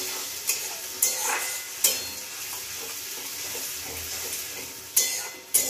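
A masala paste of onion, ginger, garlic and tomato for pomfret kalia sizzles in hot oil, with a steady frying hiss broken by several sharp scraping strokes of the spoon against the pan.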